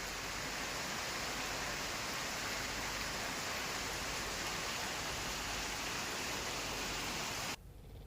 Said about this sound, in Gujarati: લખપત તાલુકામાં વરસાદી માહોલ જામ્યો